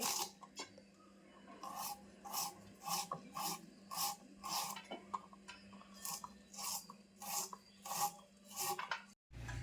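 Rhythmic, crisp knife strokes on a board finely chopping onions and green chillies, about a dozen evenly spaced chops, close and fairly quiet with no talking.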